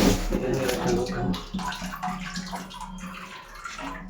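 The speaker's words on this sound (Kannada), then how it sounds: "ಮೇಲ್ಗಡೆ ಟ್ಯಾಪ್ ಆನ್ ಮಾಡಿರೋದ್ರಿಂದ ನೀರು ಬೀಳ್ತಿದೆ" An open tap pours water into an overhead Sintex storage tank, a continuous close splashing and gurgling stream with slight variations in flow, alone without talk.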